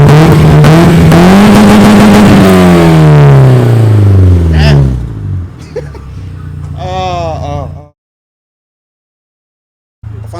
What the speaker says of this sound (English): Clean custom exhaust.